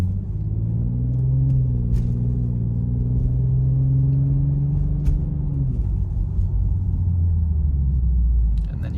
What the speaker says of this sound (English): I like to hear the car.